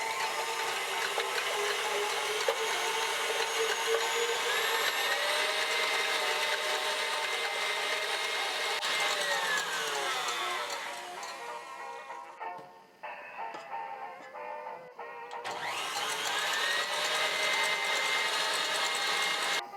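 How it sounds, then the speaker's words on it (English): A stand mixer whisks egg whites with cream of tartar toward stiff peaks, a steady high whirring motor with rising pitch, then a brief stop and a restart at full speed. "we're going to take the stand mixer and the egg whites"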